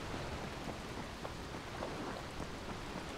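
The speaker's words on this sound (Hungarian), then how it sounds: "Várja, figyelj, mikor villámlik," Thunder and steady rain during a lightning storm in the Dying Light video game, a continuous dense rainfall hiss with low rumbling thunder throughout, loud and unbroken, with no voices.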